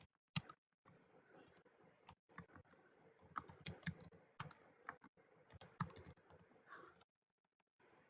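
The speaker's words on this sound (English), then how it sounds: "you get started by typing in a list of names" Quiet, rapid clicking of keys on a computer keyboard, typed in uneven bursts with brief pauses.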